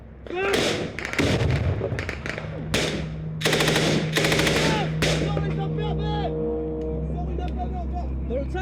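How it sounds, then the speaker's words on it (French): Automatic rifle and heavy machine gun fire exchanged at under 50 metres through trees in Afghanistan, loud bursts and single shots in quick irregular rhythm, with voices shouting between them and a steady engine-like drone beneath. "les tirs s'échangent à moins de 50 mètres à l'arme automatique et à la mitrailleuse lourde"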